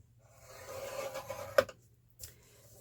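Paper is scored along a 2 inch mark with a scoring tool, a soft close scraping rub that builds, then a sharp tap and a brief second scrape after a pause, fairly quiet overall.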